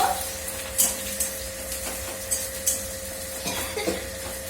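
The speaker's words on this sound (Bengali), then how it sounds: "পেঁয়াজ ভেজে নেবো।" Onions frying in a pan for whole masoor lentils, with a steady low sizzle broken by occasional utensil scrapes and clinks as they are stirred, close by.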